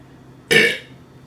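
One big, loud burp bursts out alone at close range, a short, rough eructation that fades quickly after a sharp onset.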